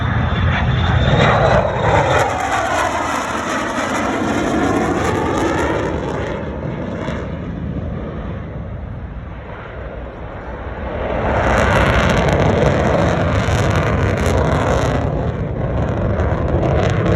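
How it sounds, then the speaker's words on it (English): An F-35 fighter jet passes at an air show at about 300 knots, a loud roaring engine sound that swells, eases through the middle and builds again as it goes by. "This is a very large aircraft. Flying through at about 300 knots."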